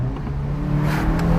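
A 2016 VW Golf GTI Clubsport's engine and exhaust rev steadily at close range, a continuous droning growl that swells slightly toward the end, with no voices over it.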